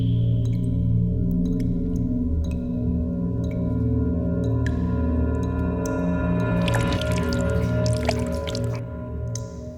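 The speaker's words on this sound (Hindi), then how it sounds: "पानी लीक हो रहा है टेरेस पर।" Water leaks and drips on a terrace, with sparse, sharp droplet plinks landing irregularly over a steady low hum, then a brief cluster of splashy drips late on, loud and close.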